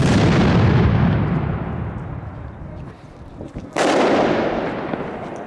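A Pyromax 30-caliber, 48-shot fireworks cake fired outdoors on New Year's Eve, giving loud booming bursts that fade into a rumbling tail, then a fresh sharp blast and sustained crackle, with no talking.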